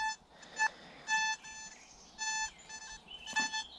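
A metal detector sounds a series of short electronic beeps and tones in a forest, several separate bursts, clear and moderately close, with no one speaking.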